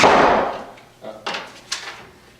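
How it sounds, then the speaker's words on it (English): A loud door slams with a sharp, broadband bang that rings and fades over about a second, followed by three softer, spaced knocks or thumps, with no talking. "That's a loud door"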